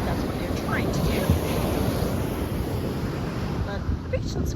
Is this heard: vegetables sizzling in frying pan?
no